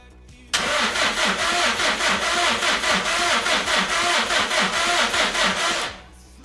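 A 2004-2021 Subaru WRX STI engine cranks over without starting during a compression test, a loud, steady rhythmic chugging that runs for about five seconds before cutting off, with no talking.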